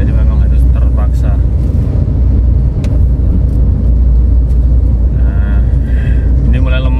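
A 1400 cc R3 car engine strains loudly while climbing a steep uphill stretch of a two-lane Semarang toll road shared with trucks, its deep, steady roar filling the whole clip with a voice talking over it.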